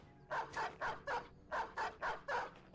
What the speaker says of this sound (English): Puppies going ham.